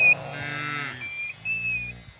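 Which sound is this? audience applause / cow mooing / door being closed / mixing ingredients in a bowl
cow mooing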